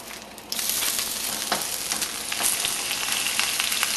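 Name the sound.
spinach frying in vegetable oil in a frying pan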